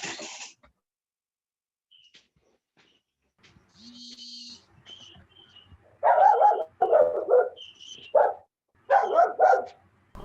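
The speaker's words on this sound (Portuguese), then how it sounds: "Tem cachorro agora. Ó, cachorro." Dog barks in a short run of loud, close yaps and bursts, joined by a few fainter sounds and a thin whine, in an indoor room where a class is being held online.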